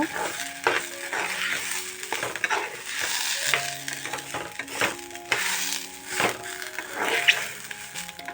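Washed rice stirred in hot oil, with repeated scraping and rattling strokes of a spoon in the pot over a continuous frying sizzle, close and moderately loud.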